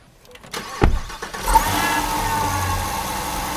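A supercharged car engine fitted with a carbon fiber supercharger lid cranks and catches, surges with a rev, then settles into a steady, loud mid-pitched rumble.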